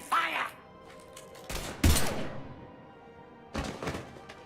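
Gunfire erupts in Mass Effect 3, with a few separate loud broadband bursts spread across the moment, broken by quieter stretches where game dialogue and voices are heard.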